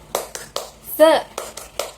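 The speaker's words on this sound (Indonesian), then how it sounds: "Oke, langsung aja ya kita mulai tepuk semangat" A classroom of students in an economics class doing the tepuk semangat rhythmic clapping chant, sharp claps in a regular beat with a brief voiced shout in the middle, close and clear.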